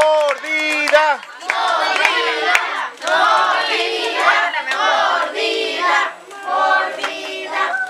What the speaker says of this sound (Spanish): Fuerte el aplauso, que se oiga.